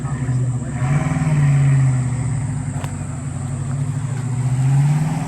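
A Mach 1 Mustang pulling away at a cars and coffee meet, its engine a loud, steady low rumble that swells as it revs and drives off, with crowd noise around it.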